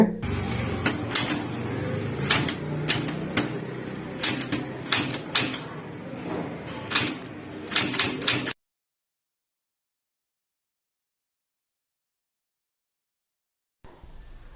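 Keys strike on a typewriter during a typing lesson in English, a quick series of sharp clacks for about eight seconds before sudden silence, then a faint murmur near the end.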